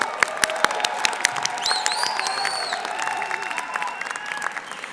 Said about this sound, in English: Let's hear a round of applause for our graduates